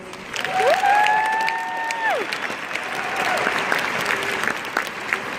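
A crowd applauds valedictorians at a Class of 2019 graduation ceremony: steady, dense clapping from a large audience with a few sharp whistles near the start, holding strong throughout.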